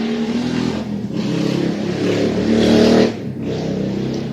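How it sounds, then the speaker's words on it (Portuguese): A car engine revs hard out on the street, loud and close, with a roar that swells, drops briefly and climbs again to a peak near the end before easing off. "Interessante alguém comprar um carro assim, né, pessoal? Sair pela rua fazendo esse barulho é muito interessante"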